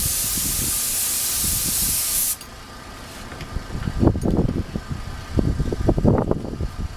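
An airbrush sprays paint in a loud, steady hiss for a couple of seconds and then cuts off, leaving a quieter room with a series of soft knocks and handling bumps.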